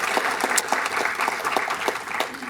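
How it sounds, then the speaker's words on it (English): An audience at a morning community panel event in Truckee applauds a panelist with a short burst of dense clapping, several sharper claps standing out near the front. "Let's give him a round of applause."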